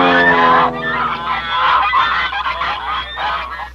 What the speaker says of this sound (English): Sometimes to attract the ducks, the clever hunter uses a duck call.